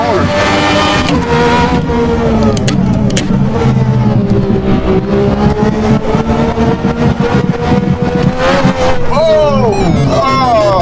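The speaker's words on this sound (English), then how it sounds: "Too much throttle at the corner, man." An Aston Martin Valkyrie accelerating hard through a corner, its engine screaming loudly at a rising and falling high pitch throughout, up close and continuous.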